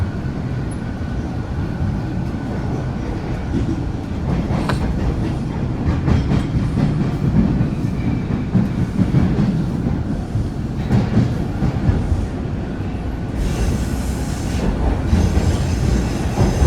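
A Toronto Bloor-Danforth subway train runs between stations, with a steady loud rumble, rhythmic wheel clatter and rising wheel squeal as the car rolls through the tunnel.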